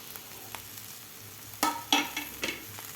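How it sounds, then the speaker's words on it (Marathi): Fenugreek leaves being stir-fried in a pan with dal and crushed peanuts: a soft steady sizzle broken by several sharp scraping stirs of a spatula, close and alone. "आता भाजी आपल्याला व्यवस्थित परतून घ्यायची आहे"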